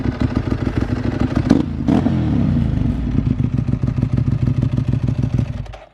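A Ducati 1198 motorcycle with a Termignoni exhaust, ridden close by, with a loud throbbing engine that revs up sharply and pulses with rapid firing beats before cutting off.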